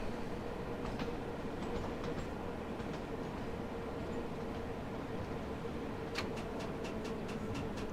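Bakerloo Line London Underground train in Train Sim World 2 slowing into Harrow and Wealdstone, a steady low rumble of running gear and rail noise with faint clicks, and a brief cluster of sharper ticks near the end.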